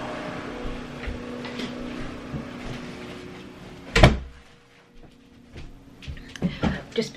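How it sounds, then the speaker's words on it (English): A house door shut with one sharp close thud midway, after quiet room tone with a faint lawn mower hum, followed by a few small knocks and handling sounds. "I'm going to shut the door."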